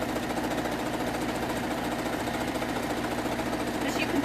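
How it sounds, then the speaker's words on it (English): A domestic sewing machine runs steadily while stitching down the sides and across the bottom of a fabric shopping bag, giving a continuous close, even mechanical whir with a fast rhythmic chatter. "So we're just going to sew down the sides, across the bottom and up the other side"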